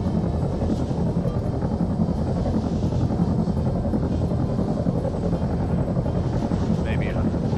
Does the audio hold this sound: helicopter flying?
yes